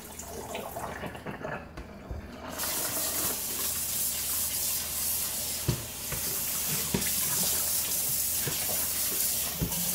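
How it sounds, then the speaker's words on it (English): Water runs steadily from a tap into a sink, rinsing salmon, a continuous splashing rush with occasional small knocks and clinks, close by. "I've already rinsed it a little bit, so what I'm going to do is pour that out"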